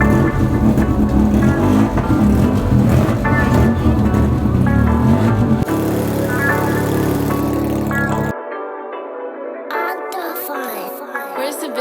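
A racing Fiat 126p engine runs hard on a dynamometer, a loud, continuous, buzzing drone whose pitch shifts between abruptly cut sections.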